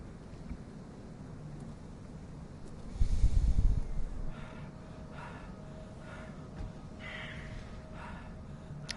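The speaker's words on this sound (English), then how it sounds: "Very heavy breathing." Heavy breathing from a character in the Call of Cthulhu video game, a brief loud gasping burst over a faint hissing, windy background, otherwise quiet.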